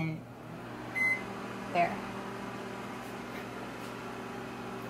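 A microwave oven hums steadily while warming a portion of pet food, with two brief beeps early on and a few words spoken quietly over the drone.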